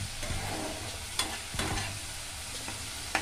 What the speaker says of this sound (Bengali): অল্প একটু জল দিয়ে মশলাটা কষিয়ে নিচ্ছি, যাতে মশলাটা পুড়ে না যায়।